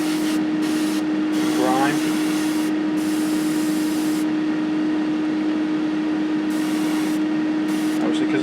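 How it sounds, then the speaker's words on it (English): An airbrush blows air across the cockpit of an Airfix 1/48 Messerschmitt Bf 109E model kit, a steady close hiss with a constant hum running beneath it, broken by short gaps where the spray pauses. "You can also blow it around with the airbrush, which is handy."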